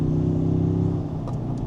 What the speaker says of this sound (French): Je ne sais pas si vous entendez le régime de la voiture, mais c'est quand même assez coupleux comme moteur, ce V6 de chez Toyota